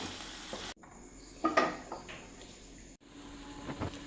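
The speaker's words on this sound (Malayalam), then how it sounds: "നല്ലോണം ഇളക്കി ഒന്ന് യോജിപ്പിക്കാം." Garlic chicken stirred in a pan, giving a short burst of scraping and clinking from a spoon against the metal, with soft sizzling and abrupt cuts between moments.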